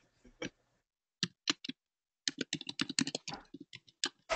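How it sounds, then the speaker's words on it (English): Fast typing on a computer keyboard during an online club meeting: crisp, close clicks in quick irregular runs, with a short lone tap, a pause, then a dense rapid burst, and no talking. "Oh, we've got somebody typing fast."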